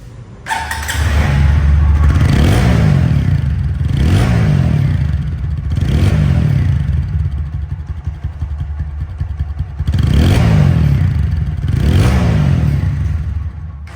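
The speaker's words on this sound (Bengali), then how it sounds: "এখন সাউন্ড কোয়ালিটি শুনুন" A late-2023 TVS 4V ABS motorcycle, a used bike, revs loudly and close, its engine swelling up and dropping back in about five repeated throttle blips over a steady idle rumble.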